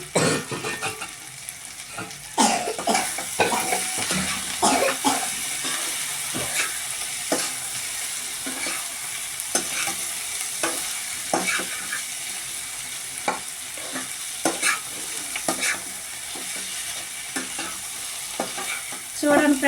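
Fresh coriander sizzles and fries in a pan for chicken biryani, with a steady hiss and frequent scraping stirs of a utensil, close and continuous with no talking.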